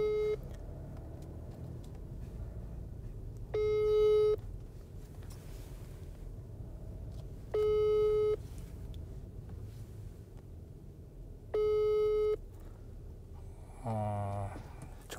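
A phone call goes unanswered, and a tone plays through a phone speaker in three evenly spaced beeps over steady wind and vehicle noise outdoors, with no talk.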